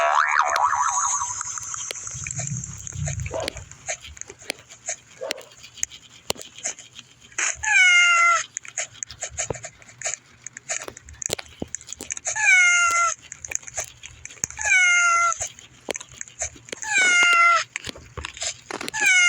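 A cat meows repeatedly, with several distinct rising cries spaced a few seconds apart over quieter rustling and background noise.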